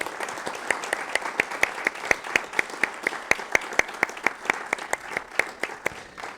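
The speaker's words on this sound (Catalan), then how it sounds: "jo crec que la Laia es mereix un aplaudiment" Audience applauding for Laia Guillaumes, winner of the Salvador Dalí research prize, at a ceremony; a moderate crowd of steady claps with sharp individual hand claps standing out, continuous and alone without talk.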